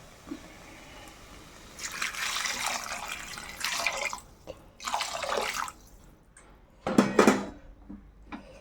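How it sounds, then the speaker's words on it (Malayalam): Water is poured into a pan of soaked chickpeas seasoned with fennel and asafoetida for a curry, in several separate splashing pours with quiet gaps between them, close up and fairly soft. "വെള്ളം ഒഴിക്കാം."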